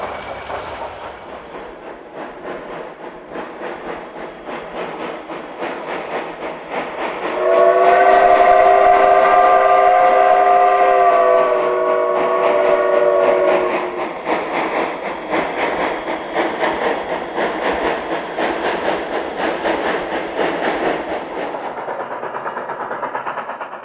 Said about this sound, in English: you'll see wood-burning Heisler No. 3 and oil-fired Mikado No. 19 as they pull trains